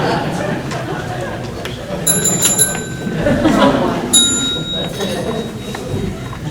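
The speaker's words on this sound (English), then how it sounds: "she has 2 little bells, both metal. One bell works and she rings it." At an evening candidate forum, a timekeeper rings a small metal bell in short bright dings, twice at about two and four seconds, under the hum and chatter of a crowded room.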